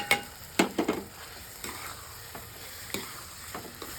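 Curry fries and sizzles in a pan as boiled green gram is stirred in, with several sharp scraping clinks of the spoon over a soft, steady sizzle, loudest early and then lighter intermittent stirs.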